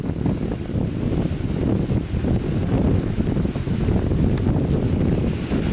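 Strong wind at sea near an overloaded barge roars steadily and loudly, buffeting the microphone, with surf-like rushing underneath and no voices.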